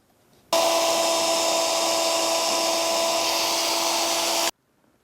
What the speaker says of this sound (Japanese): 車軸を取り出しドリルにセット。